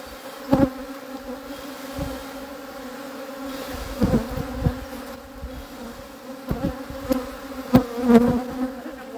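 Angry honey bees buzz steadily around an open hive during a hive split, a dense droning swarm with louder bursts as individual bees pass close by.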